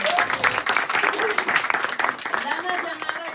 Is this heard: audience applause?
yes